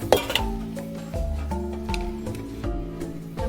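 Soybean chunks tossed in masala in a pan, with repeated close clinks and scrapes of a utensil against the metal pan in an uneven stirring rhythm over a low background hum.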